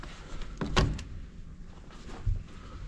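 A secret door in a mansion opening in a game: a soft scrape followed by a short mechanical clatter and a dull thunk, with a faint low bump near the end, over a quiet background.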